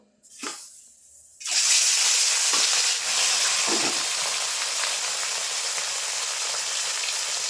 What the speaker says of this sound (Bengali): কড়াইতে সরষের তেল দিয়ে দিয়েছি, তেল কিন্তু খুব ভালোভাবে গরম হয়ে গেছে। এখন মাছের পিসগুলো দিয়ে দেবো।